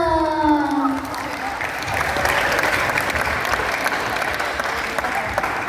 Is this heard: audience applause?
yes